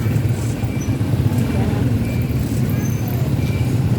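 A steady, loud rumble of street traffic on a busy Sunday market road, with engines droning continuously close by and no breaks.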